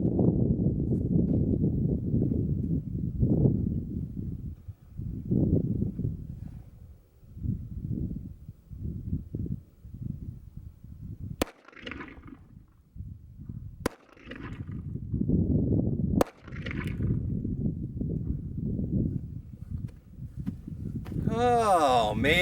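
A Glock 17 pistol with an attached tactical light is fired at a target 30 feet away: three sharp, separate shots spaced a few seconds apart, with someone talking before and between them.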